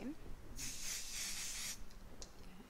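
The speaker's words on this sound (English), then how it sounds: "I'm going to spray the back of this with my spray." A steady aerosol spray hisses for about a second onto the back of minky fabric, then a brief second puff follows, both close and fairly loud over a quiet room.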